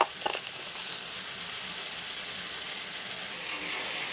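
Spice paste sizzling and frying in hot oil in a pan for a butter soya chunks chicken dish, with steady close hiss and occasional stirring scrapes, no talk.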